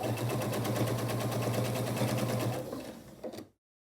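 A sewing machine stitches quilt strip sets in a continuous fast whir, close and loud, slowing briefly before cutting off into silence.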